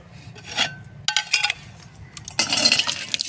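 Pots and dishes clink and rattle as they are carried outdoors for washing, a few close bursts of metallic knocking and scraping separated by short pauses.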